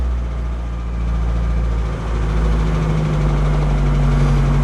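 A classic Volkswagen Scirocco engine, running for only a few seconds after being started, idles with a loud, steady low rumble and a constant hum close by, and no one talks over it.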